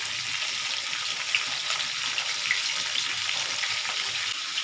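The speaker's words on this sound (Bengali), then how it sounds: "মাছটা ভাজা হতে থাকুক" A fish head fries in hot mustard oil in a pan, giving a steady, close hiss of sizzling with scattered small pops and crackles throughout, with no talking.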